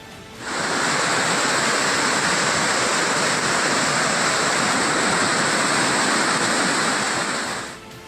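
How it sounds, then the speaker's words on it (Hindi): Floodwaters of a swollen river roar after a cloudburst in Rudraprayag, Uttarakhand, a loud, steady, dense rushing that swells in, holds unbroken for several seconds with no voices, then fades out. "पानी के इस शोर और नदी के उफान को महसूस कीजिए।"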